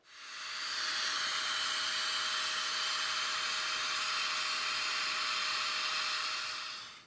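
A sleeping mat pumped up during a windy Lake District wild camp gives a steady, continuous airy hiss with a faint whine, rising in at the start and tailing off at the end, without any voices.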